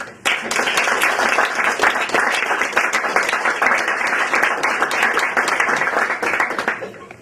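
Audience applause welcoming poet Dana Gioia, former director of the National Endowment for the Arts, at an afternoon talk; dense, steady clapping from a crowd that carries at full level for about seven seconds before easing off.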